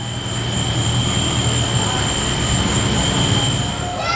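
A small park train rolls along its railroad track at Wild Adventures during the Great Pumpkin LumiNights Halloween event, giving a steady, close rumble with a sustained high metallic whine over it, continuous throughout.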